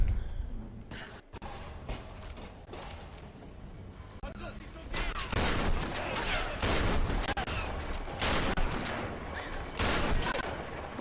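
Gunfire in the Tomb Raider video game on Xbox 360, bursts of rapid shots and heavy blasts that grow denser and louder in the second half, loud and cluttered with in-game noise.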